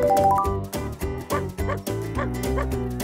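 Several cartoon sled dogs bark and yip in quick, overlapping bursts with a few whimpers, loud and close, all belonging to a musher family in Anchorage, Alaska.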